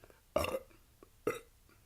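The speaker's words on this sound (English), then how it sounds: "Burp." Two loud, abrupt human burps about a second apart, close to the microphone, each a short guttural blast with a faint small sound between them.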